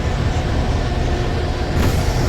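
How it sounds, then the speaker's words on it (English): A train car rolls through a railyard in the Alan Wake video game, a loud, steady low rumble with a brief hiss rising near the end. "Is that train car moving?"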